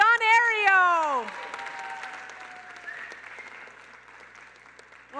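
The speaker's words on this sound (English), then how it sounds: "So, Idicula, you got your round of applause from the audience." An audience at the FII Innovators Pitch 2024 event applauds a startup pitch; a voice speaks briefly first, then a faint, thinning patter of clapping trails off into near quiet.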